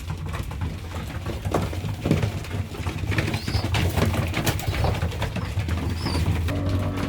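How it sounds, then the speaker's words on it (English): Many young pigeons cooing together in a loft, a dense, continuous chorus of low coos close by, with occasional wing flutters and rustling. "There's so many birds in here, it's awesome."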